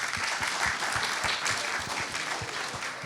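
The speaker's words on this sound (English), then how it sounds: "Let's have a round of applause for Isabella." An audience at a startup pitch event clapping for a presenter, a steady wash of many hands with a few distinct nearby claps, moderately loud and continuous.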